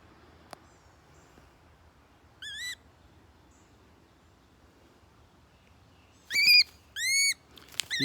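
Sharp, rising whistled bird calls sound in separate bursts: one brief call early, then two louder calls close together near the end over quiet background.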